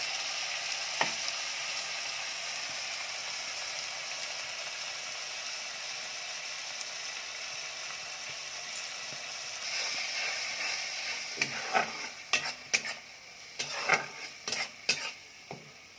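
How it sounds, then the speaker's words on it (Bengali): Ginger garlic paste and onions sizzling steadily in a pan while being stirred, with clinks and scrapes of a metal spoon against the pan growing busier toward the end. "মশলাটাকে এবার 2-3 মিনিট ভেজে নেব, যাতে কাঁচা গন্ধটা চলে যায়।"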